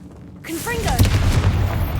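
A Confringo fire-blast spell bursts in Hogwarts Legacy, a sudden booming whoosh that swells after a short pause and rolls on loudly with crackling, with a voice calling out briefly at the onset.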